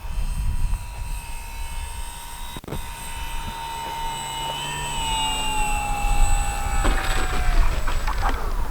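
An Arrows RC Husky model plane on 4S power coming in to land with flaps down, a steady electric motor whine passing at a distance and shifting in pitch as it descends, with outdoor background noise.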